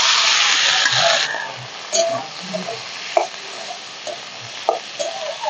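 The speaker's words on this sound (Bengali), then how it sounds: "সব কিছুই একসাথে একটু ভাজা ভাজা করে নিয়েছি।" Dried chepa fish fries with chopped onion, green chili, crushed garlic and tomato, a loud hiss at first easing into quieter sizzle with intermittent scrapes and knocks of stirring, no talk.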